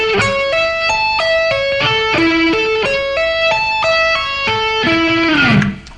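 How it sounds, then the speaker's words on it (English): Played slowly on electric guitar, a clean arpeggio run mixes sweep picking, tapping and pull-offs, stepping up and down through a steady series of distinct notes and ending on a downward slide, loud and alone. "if we play it slow, it would sound like this"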